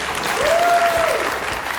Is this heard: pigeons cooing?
no